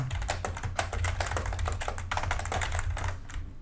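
Rapid keyboard-style typing clicks from the Minecraft game, a steady dense patter of keystrokes over a low background hum, continuous and close for several seconds.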